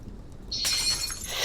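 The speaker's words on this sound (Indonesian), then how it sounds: "Dia pecahin kaca guys." Glass window shattering inside the Roblox horror game Pine Fall: a sudden loud burst of breaking glass about halfway through, followed by a bright lingering tinkle of falling shards.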